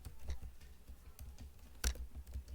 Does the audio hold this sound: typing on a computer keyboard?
yes